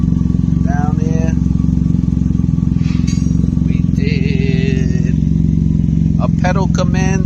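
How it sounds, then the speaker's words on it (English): A modified Can-Am Ryker three-wheeler with a cold air intake and loud twin chaos exhaust idles nearby in a steady, pulsing low throb, while someone talks over it. "It's loud exhaust, might be canceling out the noise."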